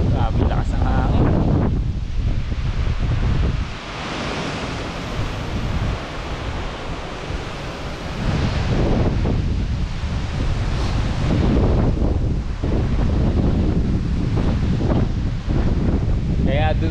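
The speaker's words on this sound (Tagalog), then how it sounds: "Grabe, lakas ang hangin." Strong gusts roar and buffet the microphone at a campsite, rising and falling in waves over many seconds, with faint voices breaking through now and then.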